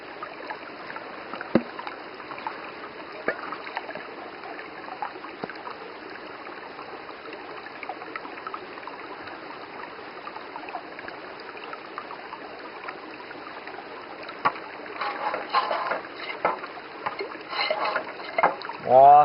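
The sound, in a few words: washing and rinsing with water and eco soap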